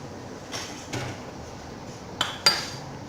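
A spoon scraping and clinking against the inside of a cooking pot of simmering nalli nehari, a few light metallic taps spaced irregularly over a quiet background.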